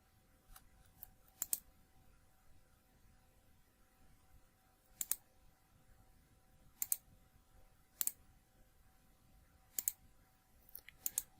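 Sharp, faint mouse clicks in a quiet room, mostly in pairs like double-clicks, spread irregularly across several seconds with a low steady hum underneath.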